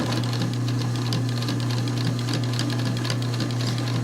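A Pfaff sewing machine runs steadily, its motor hum and rapid needle stitching continuing close and loud without a break, with no talking.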